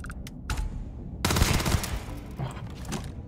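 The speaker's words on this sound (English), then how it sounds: "Are the bullets bouncing off the wall" Gunfire in the space game Starfield: a couple of sharp early shots, then a dense burst of rapid fire in the middle, with scattered shots trailing off near the end.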